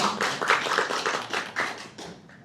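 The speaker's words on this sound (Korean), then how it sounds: "우리 큰 박수로 환영하겠습니다" Applause from a church congregation at a Japanese-language Sunday worship service, welcoming a missionary to the pulpit: a short burst of hand clapping that fades steadily over about two seconds, with no talk over it.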